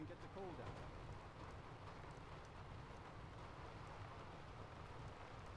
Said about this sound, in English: when we go in this you'll hear the rain on the roof